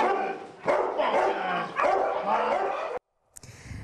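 At a dog training site in Benin, several dogs bark loudly in repeated bursts at close range, then the barking cuts off abruptly into near silence before a brief different sound.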